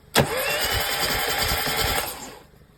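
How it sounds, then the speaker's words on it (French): An Austin Mini's starter cranks its engine after twelve years of sitting unused, a steady whirring churn that runs for about two seconds and then winds down. It is close and alone. "Vas-y, mets un coup de démarreur."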